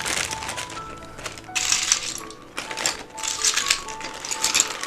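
Plastic double-shot PBT keycaps pulled off a HYTE Keeb TKL keyboard and dropped into a container, a close, busy run of sharp clicks and clattering taps in uneven bursts with short pauses, no talking.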